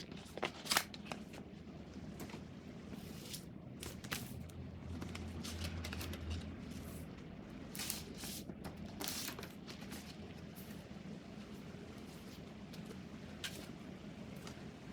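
A paper Christmas card is handled close up, giving soft crinkling, sliding and tapping rustles with a few sharper clicks scattered over a quiet background, with no talking.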